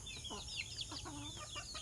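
Backyard chickens fed rice mixed with bran cluck softly and close by, a cluster of short, busy clucks and murmurs against a quiet background, with no talk.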